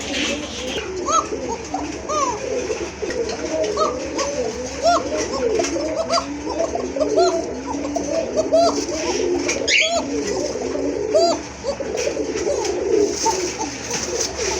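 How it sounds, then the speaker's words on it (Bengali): A pair of Koka pigeons coo continuously and rhythmically nearby, the overlapping calls layered under a busy background where people talk. "টপ ক্লাস এক জোড়া কোকা কবুতর খুবই চমৎকার একবারে চিকন সুরের কবুতর"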